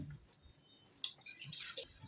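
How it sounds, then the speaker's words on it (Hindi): Water poured into lentils (dal) in a cooking pot, heard as faint, intermittent trickles and drips with a brief splash midway, quiet overall. "अभी दाल में पानी डालें।"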